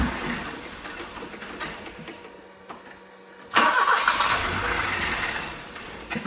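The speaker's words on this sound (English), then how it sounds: "The starter's sticking on too." A BMW E30 starter motor sticks on, its whirring cranking grinding away close by, dipping briefly before the engine catches and runs louder and rougher for the final seconds.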